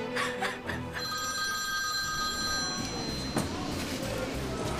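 A telephone bell rings in a village setting, loud harmonic tones repeating for about two seconds before stopping, with room noise and faint voices around it.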